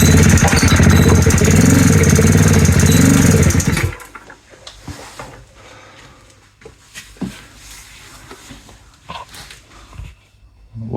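Moped engine revved at full throttle during a compression test, a loud, steady buzzing roar for about four seconds that then cuts off, leaving faint rattles and handling noises.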